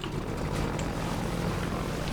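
Continuous low rotor thrum of a helicopter flying in Half-Life 2, a steady close mechanical drone with no pauses.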